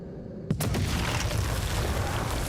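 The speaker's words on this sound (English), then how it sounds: "That sounded like an actual explosion in my ear." An explosion in the video game House of Ashes hits suddenly with a sharp, loud blast, then dissolves into a dense, roaring rumble of debris and fire that carries on to the end.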